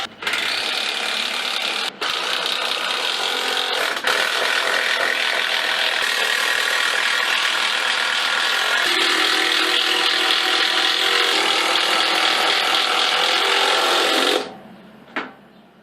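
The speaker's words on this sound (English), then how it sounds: "I attached the legs to the seat with the long screws while holding them in place." A power drill whirs continuously for over ten seconds, its pitch shifting under load as a long screw bites into wood, fixing the legs to the seat of a stitching pony, then stops abruptly.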